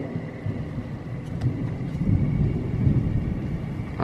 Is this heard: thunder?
yes